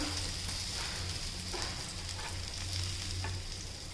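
An egg cutlet fries in a pan, giving a steady, even sizzle that runs throughout at moderate level, with a few faint scrapes or clinks near the start and middle and no voices.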